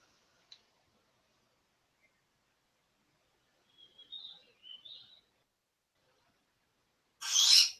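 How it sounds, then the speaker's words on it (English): A pet bird belonging to a household member gives a few faint, high chirps in near silence, a short burst of calls mid-clip, then a louder, harsher squawk at the end. "Oh, that was Petra's bird."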